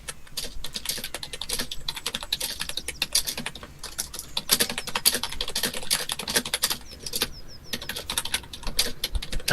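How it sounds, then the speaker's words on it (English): Very fast, continuous typing on a computer keyboard, a dense stream of crisp key clicks with brief pauses, loud and close, no voices. "That's some of the fastest typing I've ever heard."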